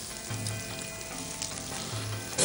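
Green beans and carrot cooking in a wok with prawns, a steady bright sizzle with a low hum underneath, close and continuous, no talking.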